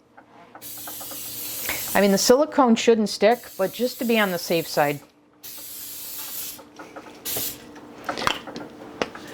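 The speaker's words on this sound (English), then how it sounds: "I'm going to go ahead and spray these with a non-stick spray" A can of non-stick cooking spray hisses in a few bursts close by, with a person talking before and between the sprays.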